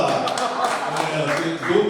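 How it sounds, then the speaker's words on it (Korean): Lecture-hall audience at a cultural lecture on tea and philosophy clapping, a continuous patter of many hands with voices mixed in beneath. "박수를 주시네요"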